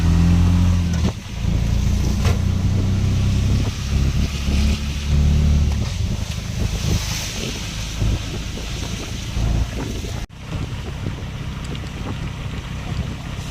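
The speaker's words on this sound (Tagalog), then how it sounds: "sumakay tayo ng bao-bao. Ito yung parang tricycle nila rito." Bao-bao motor tricycle ridden in Bukidnon, its engine giving a steady low rumble heard from inside alongside heavy wind buffeting throughout, with a brief dropout near the end.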